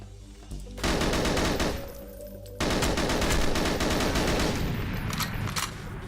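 The Klobb firing in Goldeneye: Source, a weak automatic pistol in a shooter game: long rapid bursts of rattling fire, with a short gap then a second sustained burst that tapers off.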